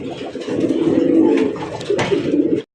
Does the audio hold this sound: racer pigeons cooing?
yes